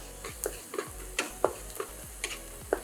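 Ginger juliennes go into dal frying in a pan, with a steady oil sizzle under repeated light clicks and taps of a spoon stirring against the pan.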